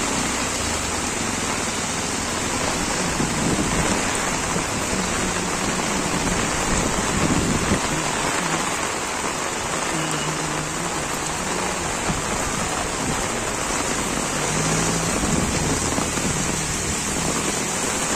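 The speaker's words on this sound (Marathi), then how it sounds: "बघा इकडे तर किती वाढलाय बघा पाऊस" Heavy, steady downpour in Virar, a dense continuous hiss of rain pouring onto surfaces and standing water, loud and unbroken throughout with no voices.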